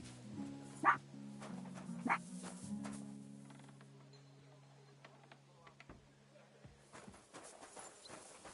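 A dog in Kingdom Come: Deliverance II gives two distinct barks about a second apart, fairly faint, followed by quieter ambient game sounds.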